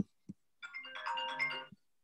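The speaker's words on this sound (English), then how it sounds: "Sorry, my phone's ringing." A phone ringtone plays a bright melodic tune for about a second, fairly clear and close, with brief low thumps before and after it and no talking over it.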